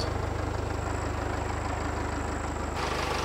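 Tractor engine running and driving a two-star hay tedder, a steady low pulsing throb with a constant whine above it, moderately near, ending in a brief shift in tone.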